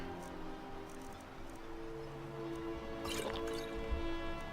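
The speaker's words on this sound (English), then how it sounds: "Let me just get a drink of water first." Character drinking water in the video game Skyrim: a brief wet gulping and splashing burst near the middle, over a steady low game ambience with no talk.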